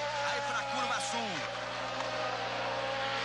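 A Formula 1 race car at the Brazilian Grand Prix rounds the left-hand south corner, its high engine whine rising and falling as it sweeps past. Commentary runs steadily over it.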